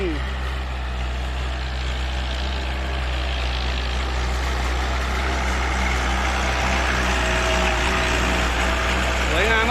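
Old Ford 8210 tractor pulling a four-disc plough through sugarcane trash in a field, a steady low diesel rumble running continuously at moderate distance while someone talks over it.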